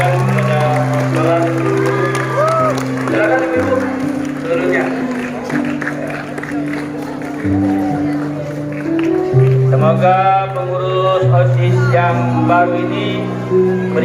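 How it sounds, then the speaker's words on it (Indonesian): Applause from an audience at a school student council (OSIS) inauguration, clapping and some cheering running beneath loud, sustained music with tonal voices, the crowd noise partly masked throughout. "Tepuk tangan semuanya."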